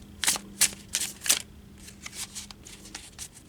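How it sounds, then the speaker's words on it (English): A deck of tarot cards riffled several times in quick bursts, crisp papery flutters close by, then softer shuffling sounds. "I'm going to give it one more shuffle."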